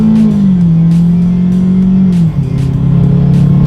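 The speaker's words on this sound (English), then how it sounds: "Let's put the new EcoSport here to the test and do a quick little acceleration here" A 2018 Ford EcoSport small SUV engine revs hard and accelerates, its drone climbing steadily before a brief dip as it shifts gear, loud and close.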